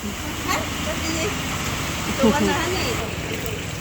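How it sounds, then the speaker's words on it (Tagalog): Rain falls steadily outdoors during a barangay fiesta, forming a dense continuous wash of patter, while a person talks faintly in the background. "Tsaka po isang maulan ngayon. Umulan na po."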